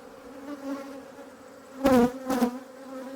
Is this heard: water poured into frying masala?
no